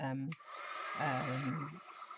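An embossing heat tool gives a steady, close blowing hiss as it warms up, with a voice talking over part of it.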